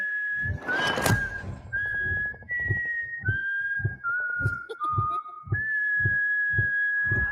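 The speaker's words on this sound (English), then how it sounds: "the whistle of the American theme" A lone whistler carries the American theme melody in a movie trailer, with steady sustained notes stepping up and down over a regular low thudding beat, clear and close.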